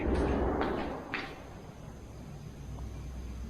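A faint creak and soft knock of a door shifting in the wind, followed by a low, steady ambient hum in a quiet hall.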